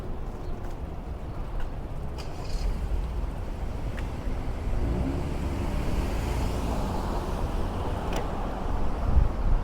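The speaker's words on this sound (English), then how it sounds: "Whoa, cars." Cars pass on a Washington, D.C. city street, a steady low traffic rumble with wind buffeting, heard from a moving bicycle, with a few faint clicks and thumps.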